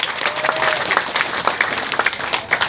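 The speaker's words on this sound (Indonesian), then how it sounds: "Tepuk tangan yang meriah." An audience at a social forestry festival in Padusan, Pacet, Mojokerto, breaks into steady, lively applause, a continuous wash of many hands clapping with a faint tonal note early on.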